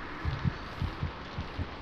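A fast heartbeat thumps in the video game Among The Sleep, a run of soft, low, evenly spaced double pulses under a steady ambient hum, with no voices.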